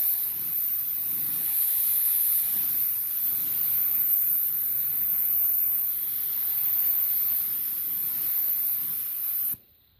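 A spray gun lays a base coat of paint on a repaired car fender, a steady, loud hiss of atomized spray that runs without a break for several seconds and then cuts off abruptly near the end.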